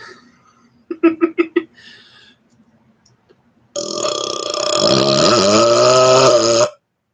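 A man burps on purpose, first a quick run of short staccato burps, then after a pause one long, loud, drawn-out burp that wavers in pitch, close to the microphone.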